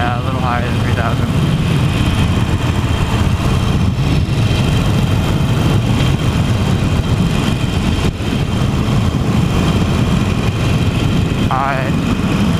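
A Harley-Davidson Iron 883, a smaller, lower-powered motorcycle, drones with a steady, loud, low engine rumble while being ridden, mixed with wind noise. Brief voice fragments surface faintly over it.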